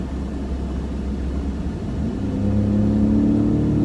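A 2018 Ford F-150 Raptor pickup truck's engine rumbles steadily up close, then swells into a deeper, louder accelerating roar over the last couple of seconds, with no talk.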